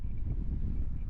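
Strong wind in Turkey batters the microphone with a dense, steady low roar and rumble that fills the brief moment, with no voices.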